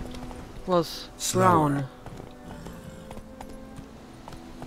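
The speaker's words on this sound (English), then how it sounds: "So let's take my trusty horse." Horse hooves clip-clopping in The Witcher 3, a faint run of rhythmic hoofbeats beneath a voice talking over them, with the game's ambient bed underneath.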